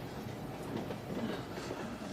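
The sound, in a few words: train running on rails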